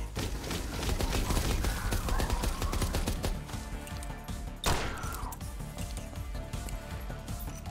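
A thrown grenade in the space shooter game From Space goes off mid-fight as a sharp explosive crack amid constant rapid gunfire, its burst fading into the busy, loud action.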